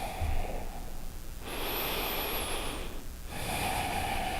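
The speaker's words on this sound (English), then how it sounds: "Continue breathing" Slow, deep breaths during a yoga stretch, each long airy inhale or exhale audible close up in a quiet room with no talking.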